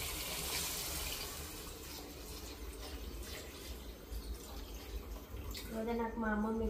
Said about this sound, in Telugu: పులుసుకి వాటర్ పోస్తుందండి.